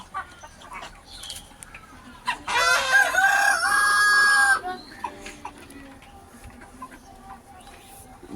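Roosters on a small home poultry farm in Bangladesh, one loud close crow lasting about two seconds, with scattered clucks and softer bird calls before and after it. A faint voice can be heard.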